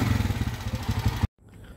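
Honda TMX125 Alpha motorcycle engine with a worn timing gear idling noisily, a steady loud chugging with a clattering mechanical rattle, close by, cutting off abruptly near the end.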